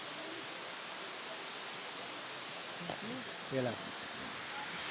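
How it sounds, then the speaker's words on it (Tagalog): Steady broadband rush of a waterfall, Matambuka Falls in Paete, Laguna, heard as constant hiss from a short distance, with a few brief voices talking quietly over it. "Matambuka Falls dito sa Paete, Laguna."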